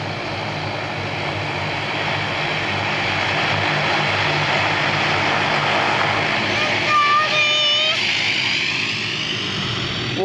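A propeller airplane passes overhead with a loud, steady engine roar that swells slightly toward the end; a high whine briefly cuts through.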